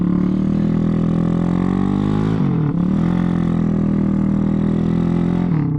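A Grom clone small motorcycle engine, not a Honda, drones loudly and steadily close by, pitch climbing under throttle, dipping briefly at a gear change, then pulling again and easing off at the end.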